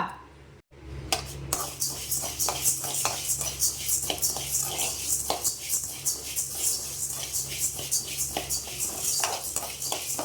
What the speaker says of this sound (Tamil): நல்லா வறுக்கணும், கருகக்கூடாது